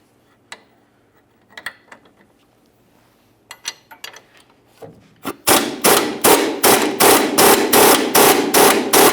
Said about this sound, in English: We'll go ahead and remove this bolt.